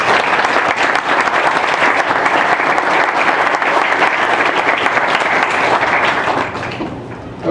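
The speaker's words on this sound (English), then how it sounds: "you all deserve a huge round of applause." Loud, steady audience applause at a League of Women Voters District 3 candidate forum in Fillmore, a dense roar of clapping held for about six seconds before tapering off.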